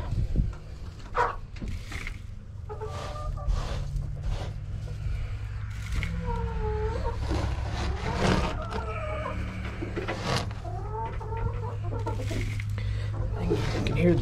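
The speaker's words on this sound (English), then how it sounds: "I can hear the chickens coming in behind me." Chickens cluck and croon inside a coop, a soft repeated murmuring against a steady low hum, with rustling and brief scraping sounds mixed in.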